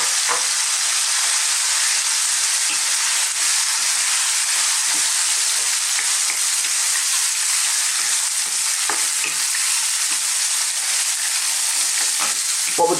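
Thin strips of lamb frying in hot oil, producing a steady, loud, broadband sizzle that holds constant throughout, with occasional soft stirring knocks underneath and no talking.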